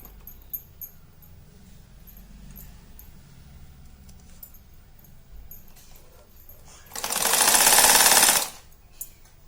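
A brief close burst of sewing machine stitching, lasting about a second and a half, runs along the bottom strip of a pant amid quiet handling noise, then stops abruptly.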